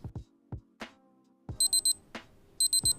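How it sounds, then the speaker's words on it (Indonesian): A Casio W-220H digital watch alarm sounds in short groups of three to four high electronic beeps, heard twice, between sharp button clicks and taps close to the microphone. "Jadi dia benar-benar kayak bunyi alarm gitu, berbunyi selama 10 detik"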